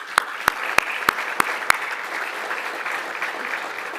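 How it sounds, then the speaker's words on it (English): An audience applauding award winners at a city business awards event, opening with a handful of sharp separate claps that turn into steady, moderately loud clapping from the crowd. "Let's give another round of applause to all of our award winners today"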